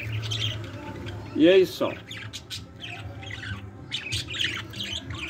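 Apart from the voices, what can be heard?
budgerigars squawking and chirping at the nest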